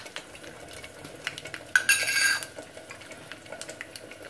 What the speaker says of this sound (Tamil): இதில் கடுகு உளுந்து வத்தல் போடுங்க.